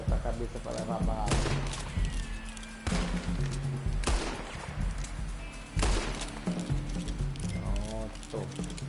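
Repeated gunshots in Red Dead Redemption 2 crack out in bursts amid galloping horse hooves, with someone talking over the action.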